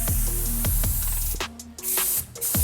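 Superior tire dressing sprayed onto a dirty truck's tire in several bursts, hissing loudly up close with short gaps between sprays.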